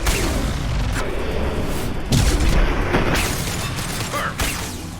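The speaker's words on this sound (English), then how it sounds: "Firing a high-impact shot!" A high-impact shot fired in Mass Effect 2, heard as a heavy boom with mechanical clatter over a dense, loud battle din, with a second strong burst midway through the clip.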